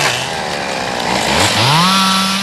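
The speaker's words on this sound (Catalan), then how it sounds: "Les desbrossadores són guiades amb uns criteris mediambientals, tenint en compte la densitat de peus" Motorized brush cutters clear forest undergrowth after a wildfire, one running close and loud with a buzzing two-stroke engine that revs up from idle into a rising, sustained high whine.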